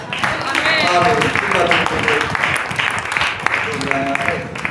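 A church congregation claps together in sustained applause, dense and steady throughout, with voices and cheering mixed in over the clapping.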